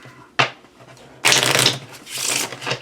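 Two bursts of a fortune-telling card deck being shuffled, a short riffle followed by a longer, louder riffling flutter, close up with no talking.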